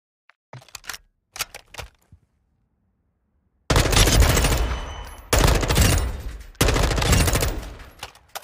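Gunfire from a weapon in the video game High on Life starts with a few faint clicks, then three loud, dense bursts of rapid fire of a second or two each, separated by brief gaps.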